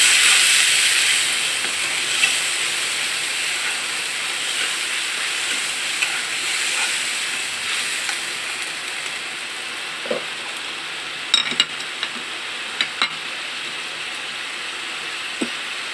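Dried fish with turmeric and chili powder sizzles in a pan, giving a steady broad hiss that is loudest at the start, with a few small sharp pops and crackles near the end and no talk.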